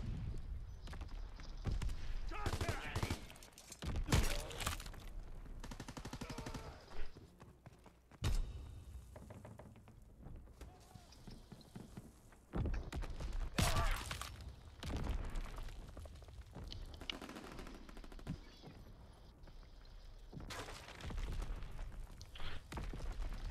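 Call of Duty WWII team deathmatch combat as a fighter pilot strafes the target, bursts of heavy gunfire and booming impacts coming in uneven waves between quieter moments.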